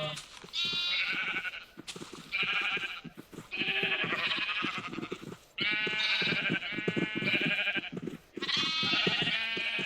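Repeated sheep bleats in the Minecraft video game come in loud, close bursts one after another, with short gaps between them and a person talking along with them.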